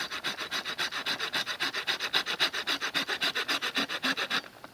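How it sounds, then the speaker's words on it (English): A hand saw rasps through wood in quick, steady back-and-forth strokes, about two dozen even pulls, close by, with no talking. "Sometimes you have to stand up while you're sawing."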